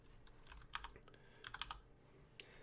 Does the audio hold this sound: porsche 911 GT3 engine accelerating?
no